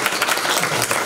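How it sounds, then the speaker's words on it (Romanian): Brief burst of dense audience applause at a pastel painting exhibition in Onești, greeting the artist Cristina Tudose. Close, loud clapping with no pause. "încurajăm prin aplauze"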